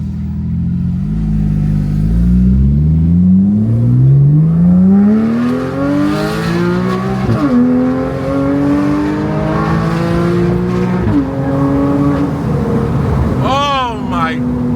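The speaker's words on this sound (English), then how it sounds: "we're gonna go over sport, and we're gonna just hit it going down this road" Porsche 911 with a cheap aftermarket exhaust in sport mode accelerating hard down a road, its loud engine note climbing through rising revs with distinct gear shifts, then crackling pops at the end.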